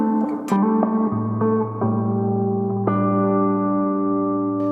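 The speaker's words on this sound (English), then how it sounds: "Then if we add some spring reverb in there" Electric guitar run through a Moog Grandmother's spring reverb into a Fender Bassman amp: several plucked notes ring out and sustain with a metallic, echoing tail, playing alone without talk.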